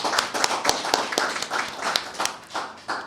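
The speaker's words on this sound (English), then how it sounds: "So please join with me and give them a round of applause." A small group applauds at an opening ceremony for community support officers, with distinct, separate claps in a loose, fairly regular rhythm, moderately quiet and somewhat spaced out rather than a dense roar.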